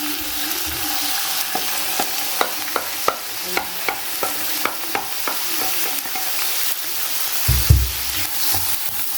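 Onions sizzle in hot fat alongside chicken liver and gizzards, steady frying hiss broken by a run of sharp utensil taps on the pan and a louder clatter near the end.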